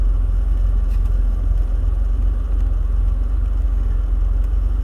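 A Porsche 964 Turbo rolls backward under power, its engine giving a loud, steady low rumble close by with no pauses.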